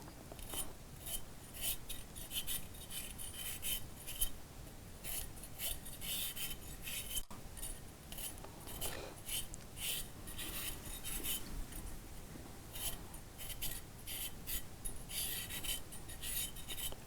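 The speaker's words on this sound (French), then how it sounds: "Donc, je vais nettoyer ma carotte." A carrot is scraped clean in a kitchen, giving a steady run of close, rhythmic rasping strokes with brief pauses, continuing throughout at moderate level with no talking.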